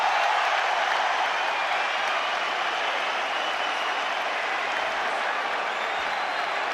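A packed arena crowd roars at the Manny Pacquiao vs Miguel Cotto boxing fight, a dense, steady wall of cheering and applause that stays loud and unbroken throughout.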